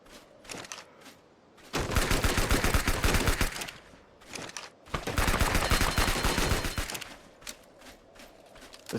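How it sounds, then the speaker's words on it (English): Forged Submachine Gun from an ARK game mod firing two long sustained automatic bursts, loud and rapid, framed by a few short separate shots before, between and after. "So for the Forged Submachine Gun"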